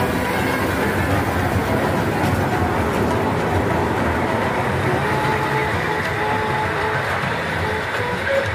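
Children's park ride train running at a park near the Mahera zamindar house, a steady rolling rumble with faint rhythmic rattling throughout, close and fairly even, without talk.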